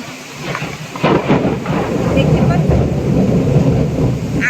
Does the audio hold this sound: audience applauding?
no